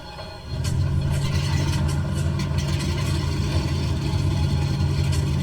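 The left piston engine of a twin-engine Lockheed L-10A in Microsoft Flight Simulator 2020 catches and starts, jumping abruptly into a steady, loud low drone and rumble that holds evenly to the end.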